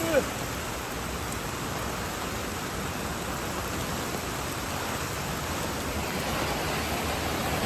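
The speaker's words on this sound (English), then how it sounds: "In Tokyo, a sudden intense downpour hit the city" Heavy downpour pours steadily on Tokyo city streets, a dense, even roar of rain filling the whole stretch without pause.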